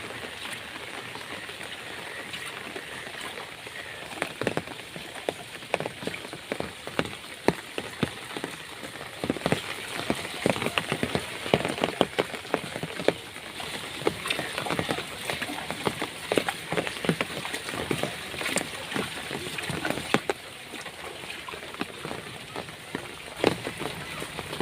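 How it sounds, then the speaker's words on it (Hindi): Steady rain falls on a village road, a dense continuous patter with scattered louder drops and splashes throughout, moderately loud and close, with no talking. "ये है एक दिन का बारिश का नज़ारा,"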